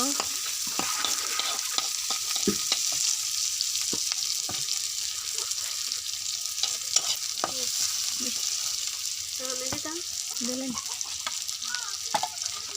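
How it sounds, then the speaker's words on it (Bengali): Dried chilies fry in a thin layer of oil for a dried-fish bhorta with onion and garlic, a steady close sizzle running throughout, broken by scattered scraping stirs of a spatula against the pan. "মরিচটা সাথে ভেজে নেব ভালো করে।"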